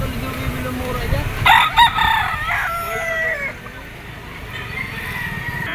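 Yellow-legged bull stag roosters at a chicken auction market in Lipa let out a couple of loud crows close by, with clucking and background crowd noise around them.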